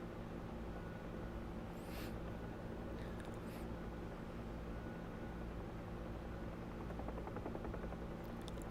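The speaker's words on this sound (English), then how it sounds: "Good thing I can fly a helicopter still." A helicopter in the flight simulator DCS World, a steady, loud rotor and turbine drone with a low throbbing hum, plus a few brief higher swishes and clicks over the top.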